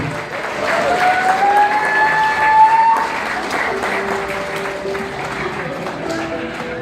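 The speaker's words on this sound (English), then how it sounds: "Big round of applause." Wedding guests applaud after a speech, a dense crowd of clapping hands swelling and then sustaining for several seconds, with some cheering and voices mixed in.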